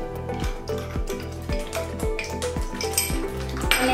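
A spoon scrapes and clinks around a pan as masala is stirred into chole gravy, with a steady rhythmic knock of metal on metal roughly every half second, close and clear with no voices.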